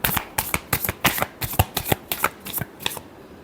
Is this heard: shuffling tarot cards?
yes